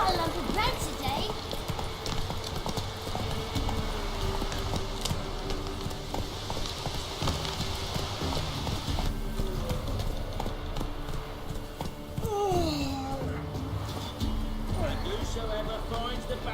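A horse galloping in The Witcher 3 video game, with steady rhythmic hoofbeats running throughout over a constant game ambience, alongside a brief swooping tone partway through.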